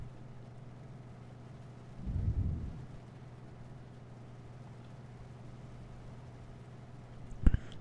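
Thunder rolling through a storm in German Truck Simulator: one low, rumbling burst of moderate loudness rising briefly over a steady engine hum, with a sharper crack near the end and no rain clearly standing out.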